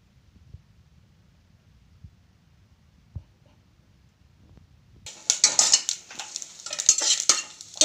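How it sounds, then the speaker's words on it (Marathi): Grated coconut dry-roasting in a pan, where a near-silent start gives way to loud, rough scraping and rustling as the shreds are stirred, in bursts over the last few seconds. "खोबरं भाजून घेतले मी"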